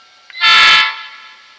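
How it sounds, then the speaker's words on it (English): A model train sound decoder sounds a single loud horn blast lasting under half a second, close and alone, fading into a quieter tone. "horn,"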